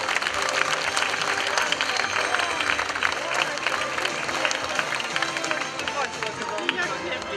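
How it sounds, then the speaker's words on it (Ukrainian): Audience applause at a Ukrainian marigold festival awards ceremony, dense steady clapping from a crowd lasting throughout, with a faint murmur of voices underneath. "Підтримуємо, аплодуємо."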